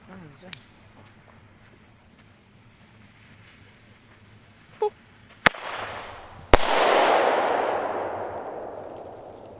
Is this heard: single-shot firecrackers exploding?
yes